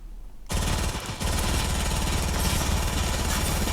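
The burst quad launcher fires in Fortnite: a quieter moment gives way to a loud, sustained, rapid rattling barrage that continues to the end, with no voices.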